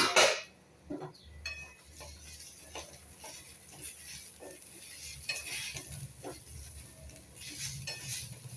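Potato finger fry sautéing in a pan, a soft low sizzle under repeated scraping and stirring with a utensil, occasional light clinks against the metal, fairly quiet and close.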